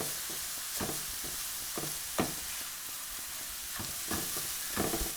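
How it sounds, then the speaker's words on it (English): Arborio rice sautéing in a pan with leeks, garlic and olive oil, a steady soft sizzle broken by sharp scraping clicks of stirring every second or so, close and fairly quiet. "Here I've got 3 cups of arborio rice that I'm just adding in and allowing it to saute and sweat along with the leeks, the garlic and the olive oil."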